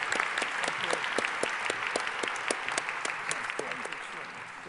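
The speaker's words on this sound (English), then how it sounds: "Let Professor Fry enjoy the applause that all our panelists deserve." Steady applause from a conference audience honouring the panelists at the close of a BRICs global growth session, dense clapping sustained throughout at moderate distance.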